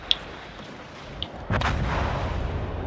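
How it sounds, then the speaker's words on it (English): Battleship main guns firing high-explosive shells in World of Warships Legends: a heavy boom lands midway, followed by a sustained loud rumbling roar, with faint pings beforehand. "I'm going to do more damage by shooting HE."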